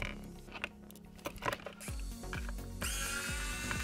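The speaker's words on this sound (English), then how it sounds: "change the force of the screwdriver here" An electric screwdriver whirs in short bursts while removing screws during an iPhone 14 Pro charging port repair, with small clicks and handling taps before a steadier motor whine, close and fairly quiet.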